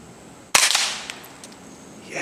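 A single sharp suppressed rifle shot through a Griffin Armament Paladin 5 suppressor, close and fairly loud, with a brief tail and faint clicks afterward.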